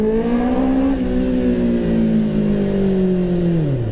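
A 2024 QJ Motor QJ 600 RR sport motorcycle accelerating, its loud, close engine note rising and holding in a sustained pull before dropping away as the burst ends.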